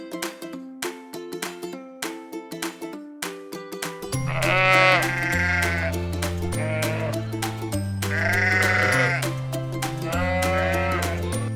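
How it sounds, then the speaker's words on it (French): Sheep bleating loudly in a farm-animal sound clip, several long wavering bleats coming in bursts over a bouncy children's music backing that plays alone at first. "Mouton."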